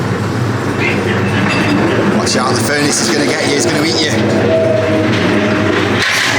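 A Blackpool Pleasure Beach ghost train ride rattles and clatters along its track, loud and close, with creaks and mechanical noise while riders talk over it.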